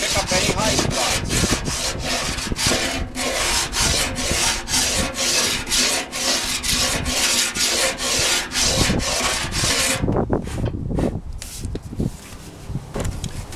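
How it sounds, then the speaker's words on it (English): Glass-filled Bondo on a motorcycle restoration being hand sanded with a big long sanding block, steady rhythmic rasping strokes back and forth, close and loud, easing into lighter scrapes near the end. "I have a big long sanding tool that acts as sort of like a cutter"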